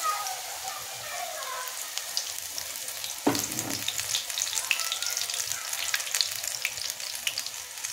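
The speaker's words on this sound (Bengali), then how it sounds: "তো এইভাবে করে সমস্ত কুলে শাকগুলোকে সুন্দর করে আমি ভেজে নেব।" Clumps of greens coated in gram flour batter sizzle steadily in hot oil, a dense crackling hiss with one sharp burst as a fresh batch drops in, and no talking.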